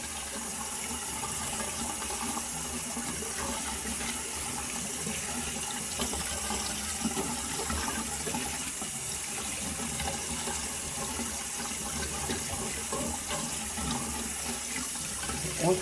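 Tap water runs steadily into a sink while wheatgrass seeds are rinsed, a continuous close splashing flow with no voices.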